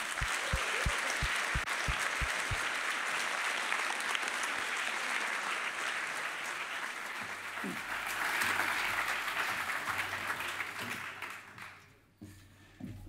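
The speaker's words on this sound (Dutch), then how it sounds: "Laten we heel hard gaan klappen voor deze interventie van Rutger Bregman." Audience applause after a talk-show interview segment, a full crowd clapping loudly and continuously, with a few rhythmic claps at the start, fading out near the end.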